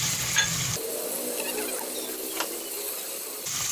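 Whole spices frying for a few seconds with softened onions in a pan, a steady soft sizzle with light clinks and stirring scrapes throughout.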